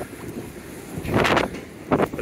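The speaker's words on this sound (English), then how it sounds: "the wind, it's uh, very windy out here" Strong wind buffeting the microphone in rumbling gusts on a Norwegian fjord cruise, rising to a louder roar midway and again near the end.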